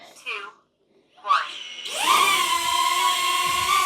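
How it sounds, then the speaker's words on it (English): A tiny DJI Neo drone spinning up after a few short bursts of a voice, its high whining propeller buzz rising into a loud, sustained drone that carries on to the end. "that is the drone"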